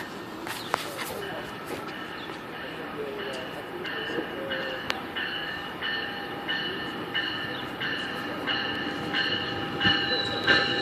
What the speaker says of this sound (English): Alright, we got the Aldershot bound GO train and ditch lights turned off.